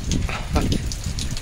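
First monsoon rain of the season falls steadily as a continuous broadband hiss with scattered drop patter, loud and close, while faint voices sound underneath.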